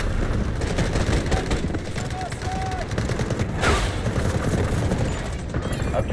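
An artillery barrage in the Delta Force shooter game lands as dense, continuous gunfire and explosive rumble, loud and layered, with a voice cutting in briefly.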